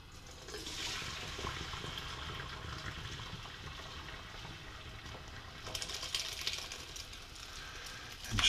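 Hot liquid from cooking carp bait of grits, potatoes and seed mash being poured and drained into a sink, a continuous quiet rushing and splashing of water that swells briefly near the end.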